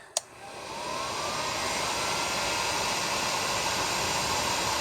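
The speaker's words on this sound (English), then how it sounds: "Heat shrink on the one side. And heat it up." A heat gun blows a steady, loud hiss of hot air onto heat shrink tubing over wires that are being fitted for a radio on a Honda Pioneer side-by-side. It runs continuously after a brief click at the start, with no talking.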